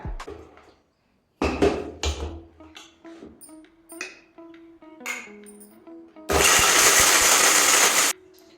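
A mixer grinder grinds white sesame seeds in its jar, a loud, steady whirring burst lasting about two seconds near the end, after a series of light clinks and pings from the jar and utensils.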